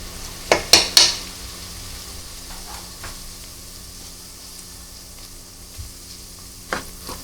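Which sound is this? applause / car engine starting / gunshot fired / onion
onion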